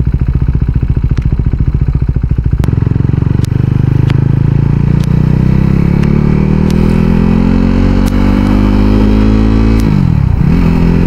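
A KTM RC 390 motorcycle on a morning sunrise ride roars loudly and close throughout, its engine note rising steadily as it accelerates, with occasional sharp clicks.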